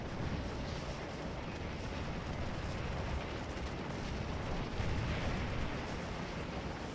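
Artillery cannon fire in the Civil War battle game Scourge of War: Antietam, a dense, continuous rumble of booming shots blending into one another, loud and sustained with no pauses.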